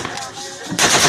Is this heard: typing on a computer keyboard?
no